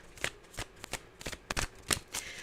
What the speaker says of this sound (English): I'm going to shuffle.